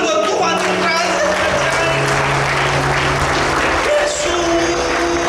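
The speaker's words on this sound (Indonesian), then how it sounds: "Boleh kita tepuk tangan buat Tuhan yang berhasil." Congregation at a church worship service claps for God, loud sustained applause filling the hall, dense and continuous with a sung or spoken voice faintly underneath.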